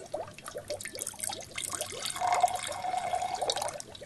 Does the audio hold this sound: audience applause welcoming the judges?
no